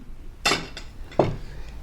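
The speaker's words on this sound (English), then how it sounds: "So here's a half cup of flame raisins, and we'll put that in the blender." Half a cup of flame raisins drops into a blender jar, making two brief clinking impacts about a second apart against a quiet background.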